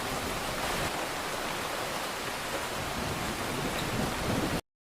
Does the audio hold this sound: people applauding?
no